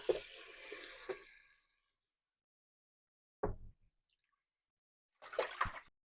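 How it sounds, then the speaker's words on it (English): A dirty bowl is rinsed under a running tap in a home kitchen while cooking for Thanksgiving: a steady rush of water for over a second, a short splash a little later, then another burst of running water near the end. "Rinse the bowl."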